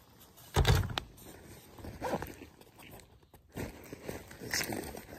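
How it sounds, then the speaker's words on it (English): A zipper on outdoor clothing pulled up in a short close rasp, followed by quieter rustling of fabric and handling in a calm outdoor setting. "Zippers up."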